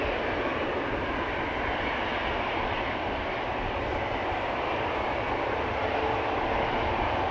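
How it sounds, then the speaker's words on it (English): A six-year-old KM Malta Airlines Airbus A320neo jet at Amsterdam Schiphol airport sends out a loud, continuous engine roar that stays constant throughout, with no talking. "KM Malta Airlines, flight 394, 6-year-old A320neo, first flight May 2018"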